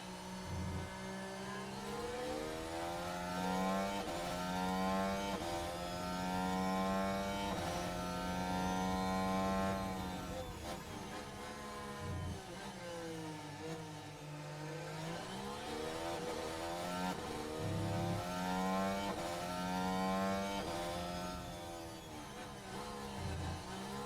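Formula 1 cars race in F1 Manager 2023, Zhou overtaking Piastri, their engines a loud, continuous whine whose pitch sweeps up and down as the cars accelerate and lift, with no talking.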